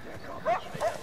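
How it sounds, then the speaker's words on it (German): Dogs in the video game Far Cry 4 give two short, faint yips or barks spaced a fraction of a second apart, low in the mix against quiet game ambience. "da sind irgendwelche scheiß Hunde wieder in der Nähe"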